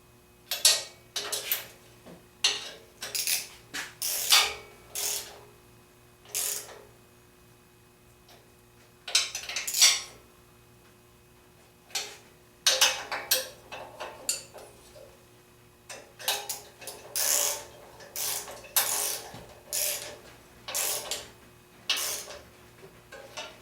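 A ratchet wrench snugs bolts on a Volkswagen 1915 engine, producing repeated short bursts of rapid metallic clicking, close and fairly crisp, separated by brief pauses with no talking.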